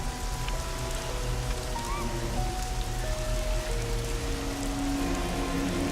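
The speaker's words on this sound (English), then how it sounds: "Rain again." Rain pours in a continuous, even hiss of drops on surfaces, with faint tonal music threaded beneath and no voices.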